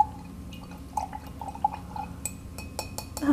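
A paintbrush swishes and taps in a glass of rinse water while painting with a child, giving soft watery sloshes and small glassy clinks spread through a quiet moment, with a few sharper taps toward the end.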